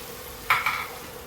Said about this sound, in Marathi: भाजी मिक्स करून घ्यायची आहे.